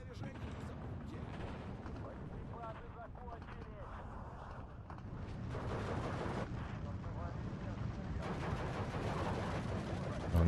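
Cluster bombs from a Ju-87D5 dive bomber pound the ground in the WWII strategy game Steel Division 2, a continuous rumble of distant blasts and crackling impacts under faint voices.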